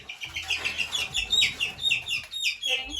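Young chicks being handled for banding chirp constantly in rapid, high, overlapping peeps, close by, with a soft low rustle beneath.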